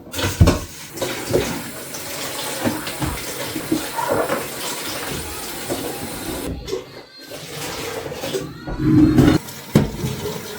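Dishes being washed under a running tap in a quiet home kitchen during a Romanian winter, with a steady broadband water rush and scattered clinks of plates and pans close by, no talk.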